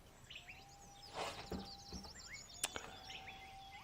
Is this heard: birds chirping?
yes